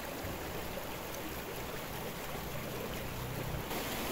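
Mountain stream in a rocky gully flowing steadily, a continuous broadband rush of water heard close and alone at moderate level.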